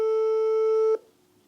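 A telephone call tone from an unanswered call, a single loud, steady electronic tone held for about a second before cutting off to near silence.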